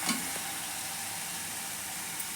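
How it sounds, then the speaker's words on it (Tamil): Garlic pickle cooks in a pan while being stirred, a soft, even frying hiss held steady throughout with a faint tap at the start. "இது நல்லா கைவிடாமல் நல்லா கிளறிக்கிட்டே இருக்கணும்."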